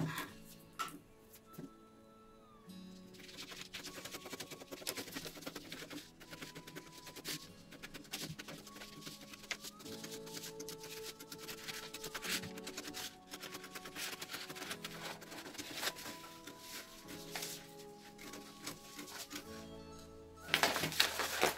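Scissors snip through fabric to cut out a spiral flounce, producing faint, close, intermittent crisp cuts and rustling with no talk.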